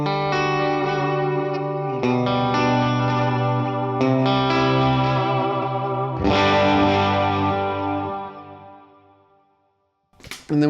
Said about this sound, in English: And then we've got medium reverb.